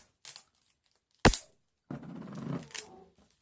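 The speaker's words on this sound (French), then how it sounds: "je vais mettre un peu de papier collant." Strips of adhesive tape are pulled off the roll and pressed into place while a fire is being prepared, giving a few short, sharp, close ripping bursts followed by a longer, rougher stretch of tearing.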